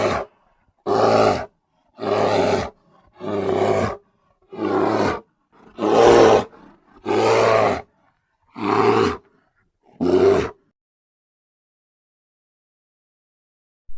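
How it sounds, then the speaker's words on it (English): A bear growls in eight separate deep, rough bursts about a second apart, loud and close, with no other sound between them and then silence. "Bear growls."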